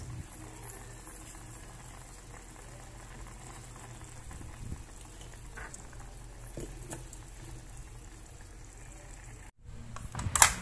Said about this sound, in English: Turn the fire into low heat. Put some sugar to add sweetness. Simmer for another 5 minutes.